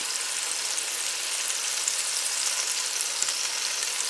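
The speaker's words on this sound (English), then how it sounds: "I'm going to lay them face down because I want them to get a little sear on the side" Smoked sausage slices laid face down sear in a hot pan, giving a steady, dense sizzle that stays even and close for the whole stretch with no talking.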